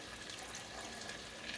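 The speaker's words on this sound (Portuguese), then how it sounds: "E aí a gente já acrescenta aquele 1 litro de água." Water pours steadily into a pan, about one litre, as a faint, even rushing stream that runs unbroken and alone.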